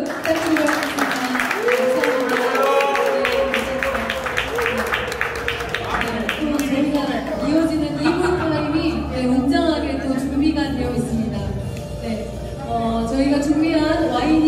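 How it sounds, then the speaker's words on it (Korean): An audience claps during a wine class at a dress dancing party held in a venue in Nam-gu, a run of scattered applause heard beneath a speaker's amplified voice, which talks over the clapping throughout. "허정민 작가님께 다시 한번 큰 박수 부탁드리도록 하겠습니다."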